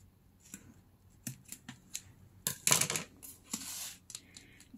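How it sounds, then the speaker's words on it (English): Scissors cutting a paper bag to make a junk journal, a series of close, crisp snips and rustling paper slides in irregular bursts, quiet overall with a louder run of cuts midway. "Here I'm gonna cut."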